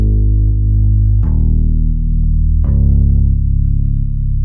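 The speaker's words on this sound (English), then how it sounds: "all together in a bass preset, it sounds like this" Deep synth bass from Flex presets plays sustained chord root notes in an indie pop rock track, changing pitch twice at steady intervals, loud and continuous with no talking.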